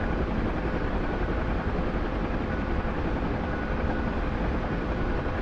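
A combat helicopter in a flight video game, with an Mi-8 mentioned nearby, gives off a dense, constant rotor and engine roar that stays loud and unbroken throughout.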